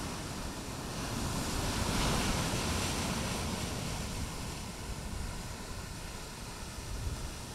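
Ocean surf and wind along the Atlantic coast by the Aveiro or Cabo Mondego lighthouse, a steady broad roar of breaking waves with gusting wind, continuous and fairly loud with no voices.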